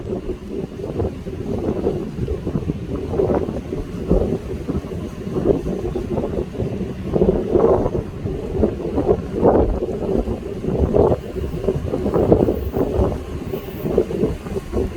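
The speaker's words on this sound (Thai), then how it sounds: "ฝนจะตกนะครับบ้านหันลมพัดแรงเลยครับ" Strong wind buffets the microphone at Ban Han railway station in Thailand ahead of rain, a continuous low roaring rush with gusty surges rising and falling throughout, heard alone without talk.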